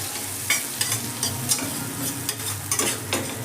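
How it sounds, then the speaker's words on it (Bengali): Garlic fries in butter in a pan with a steady close sizzle, and a utensil stirs it with soft scraping taps at irregular intervals. No voices are heard. "রসুনটা এবার আমি বাটারের মধ্যে প্রথমে ভেজে নেব"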